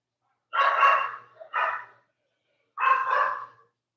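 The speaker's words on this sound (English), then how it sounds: "that's the other dog." A dog barks three times at moderate distance, two quick barks close together followed by a single bark after a short pause, with no talking over it.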